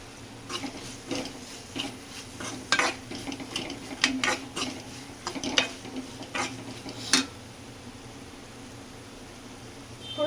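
Green masala with turmeric sizzling in a pan for a ridge gourd and prawn curry, with a soft frying hiss under repeated scraping strokes of a spoon stirring against the pot.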